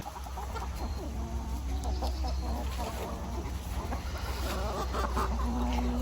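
An aging Buff Orpington rooster clucks amid a busy farmyard chorus of other chickens, with steady low background noise running throughout.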